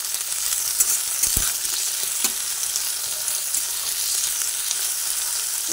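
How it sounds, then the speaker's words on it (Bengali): Bitter gourd pieces fry in hot mustard oil in a pan, giving a steady, close hiss and crackle that continues throughout, with a few faint clinks from stirring and no talking. "উচ্ছে দিয়ে প্রথমে উচ্ছেগুলোকে আমি ভেজে নিচ্ছি।"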